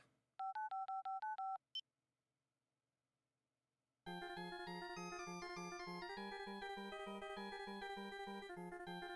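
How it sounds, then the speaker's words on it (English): A cell phone number is dialed in the Ace Attorney video game, with seven quick keypad tones in a steady run, then a short high beep. After a pause, bright looping game music starts. "Try dialing the number that he gives us."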